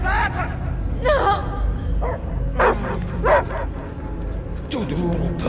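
Repeated yipping barks and whines from the dog Cosmo in the video game Guardians of the Galaxy, coming in short bursts over steady game ambience with some voices.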